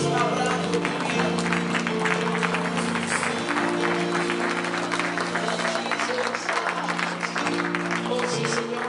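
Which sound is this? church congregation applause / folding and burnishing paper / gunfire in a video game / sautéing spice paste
church congregation applause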